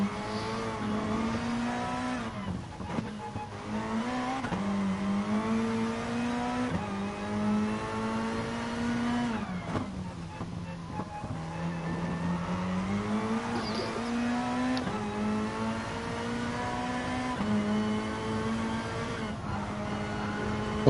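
A Toyota race car engine in a racing video game revs hard through gear changes, its pitch rising and falling repeatedly over a continuous, loud drone with occasional tire squeal, no voices.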